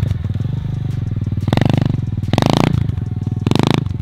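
A Kawasaki KLX dirt bike engine idles with a fast, pulsing thump, then revs sharply in three loud bursts before dropping back to idle, close by.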